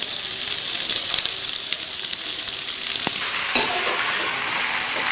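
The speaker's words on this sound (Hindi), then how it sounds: "ऑयल गर्म हो चुका है। भिंडी डालते ही वो खोलने लगा है।" Okra (bhindi) pieces frying in hot oil give a loud, steady broadband sizzle with continuous crackle and occasional sharper pops, close by and without talk throughout.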